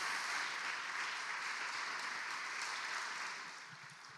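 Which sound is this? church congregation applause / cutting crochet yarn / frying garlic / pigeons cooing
church congregation applause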